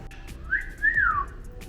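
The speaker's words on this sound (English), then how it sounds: "Let's see how well students can copy teachers' whistles." A single clear two-note whistle from a student copying a teacher's whistle, a rising then sliding tone lasting under a second, heard alone against quiet background.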